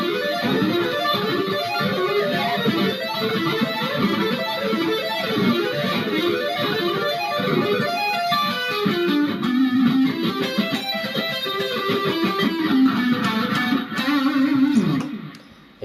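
Fast sweep-picking arpeggios on distorted electric guitar, a loud, continuous run of rapid notes rising and falling for about sixteen seconds and ending on a sustained note, with no talking.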